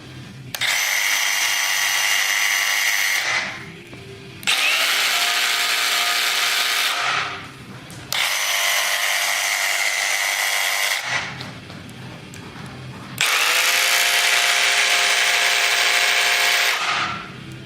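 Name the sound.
Dewalt and Milwaukee jigsaws running, sound comparison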